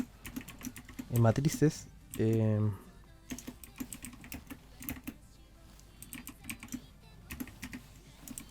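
Bursts of typing on a computer keyboard, rapid clustered keystrokes in two short runs followed by scattered individual clicks, with someone speaking over it.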